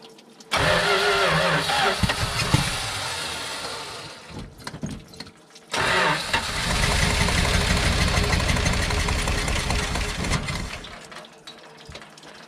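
A 1974 Dodge W200 truck engine cranks and roars to life loudly, stumbles and drops off briefly, then restarts and runs rough and loud close by before cutting out near the end.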